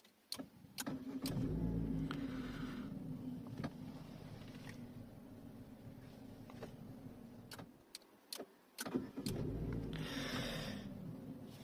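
Chevrolet Cobalt fitted with push-button start-stop starting up: a short crank and catch, then a steady mid-pitched idle that settles, with a couple of sharp clicks around it and a second revving surge near the end.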